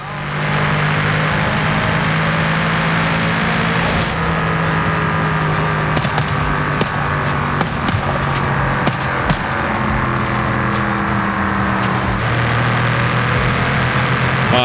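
A Mercedes engine in Forza Horizon 5 runs at a steady idle with occasional shifts in pitch, a loud, continuous mechanical hum with no talking.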